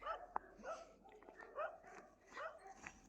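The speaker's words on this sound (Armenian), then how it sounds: "անցի տեսնեմ են ով է հաչում" A dog barks and yips several times in short bursts, at moderate distance and fairly quiet, with whimpering tones between the barks.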